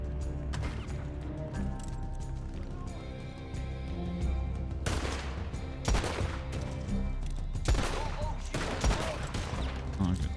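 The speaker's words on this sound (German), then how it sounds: "Oh ja. Schüsse." Rapid bursts of gunfire in the video game Red Dead Redemption 2 Online crackle and echo in a noisy, chaotic scene, several sharp volleys rising over a dense rumbling background.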